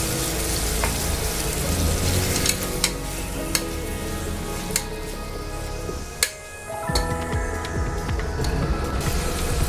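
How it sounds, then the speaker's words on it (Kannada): Peanuts tossed into a hot pan for foxtail millet bisi bele bath crackle and sizzle steadily, with sharp clinks and scraping stirs nearby and a brief lull midway. "ನಾವೀಗ ಇದಕ್ಕೆ ಕಡಲೆ ಬೀಜ ಹಾಕೋಣ."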